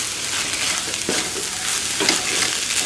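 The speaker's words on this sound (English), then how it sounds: "I'm going to put half of that bacon in there. And then stir that all up also." Crushed bacon being stirred through a sizzling skillet mixture, with continuous frying crackle and a few scraping stirs of the utensil, close and fairly loud, no talking.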